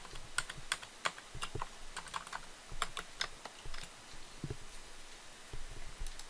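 Rapid keystrokes on a computer keyboard while entering C# code, quiet and close, with irregular clusters of clicks and brief pauses between bursts.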